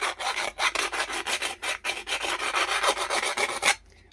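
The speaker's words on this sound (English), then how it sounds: "just like rubbing it like that, how easy it is just to take the sharp burr off" Steady rasping strokes as the sharp burr is rubbed off a steel garden trowel scoop by hand, about a dozen close, rhythmic passes before it stops abruptly.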